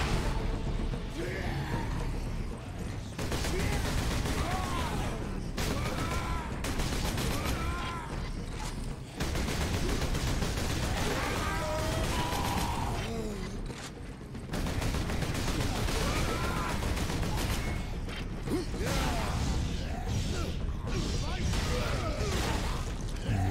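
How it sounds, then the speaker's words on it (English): A melter gun in Space Marine fires repeatedly in a chaotic battle, with sharp roaring blasts, mechanical clatter and bellowing enemies, under frequent excited talk. "Oh, it just instantly vaporizes him. Oh my. Oh my, I like me a melter gun."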